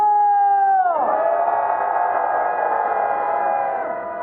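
A crowd at a candlelight rally in Gwangju lets out a sustained collective roar of cheering and shouting, many voices swelling together loudly and holding for several seconds before fading slightly.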